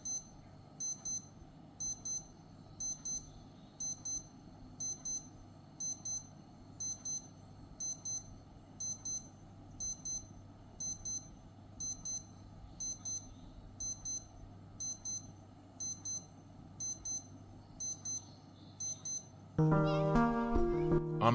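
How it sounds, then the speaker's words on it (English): Digital watch alarms from a Casio A158W and a Q&Q M173J, a repeating pattern of high thin double beeps in steady bursts, then a different louder beeping pattern briefly at the end. "The Casio, on the other hand, has a louder and clearer alarm that stops automatically after a short duration."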